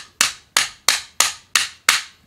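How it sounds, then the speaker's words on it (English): A rubber non-marring hammer taps a pin on the back side of a Kahr CM 45 pistol during field stripping, six sharp evenly spaced knocks about a third of a second apart, close and clear with no talk. "we got a tap on the pin on the back side with a non-marring hammer"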